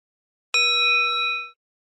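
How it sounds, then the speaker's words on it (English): A single bright bell ding with clean ringing overtones strikes once and sustains for about a second before cutting off, loud and alone against silence. "the notification bell, like I always say, is for you"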